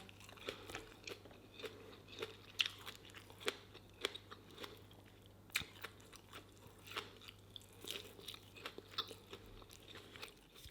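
Close, crunchy chewing and biting while eating Isan fermented sausage with sticky rice, with repeated soft crisp bites and mouth sounds in an irregular rhythm, alone, without talk, over a faint steady low hum.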